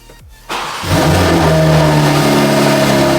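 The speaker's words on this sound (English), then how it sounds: "now I'm going to turn the car on and let the AC run for about 5 minutes" A car engine turns over and starts, then settles into a steady, loud idle close by, with no talking.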